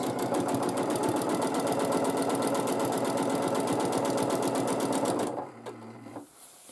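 A sewing machine stitches straight ruler-guided quilting lines in a fast, steady, continuous whir with rapid needle clatter, then slows and stops near the end, leaving a quiet hum.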